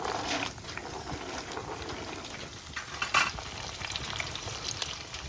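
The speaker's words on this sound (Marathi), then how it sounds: "अशा या भाज्या सगळ्या ना सोनेरी रंगावर आपल्याला असे फ्राय करून घ्यायचे बघा" Vegetables including cauliflower and green beans frying in oil for a large batch of veg biryani, a steady dense sizzle with occasional stirring scrapes, close and continuous.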